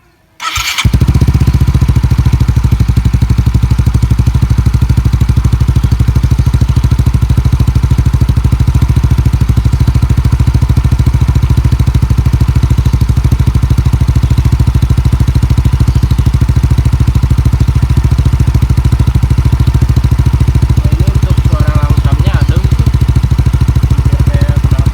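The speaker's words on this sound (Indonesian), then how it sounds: "Langsung aja ya kita dengerin buat suara dari langsam sampai gua gebar" A Yamaha Xeon RC scooter fitted with a Tsugi VND exhaust fires up within the first second, then settles into a loud, steady, close-up idle with a throbbing exhaust note that holds unchanged to the end.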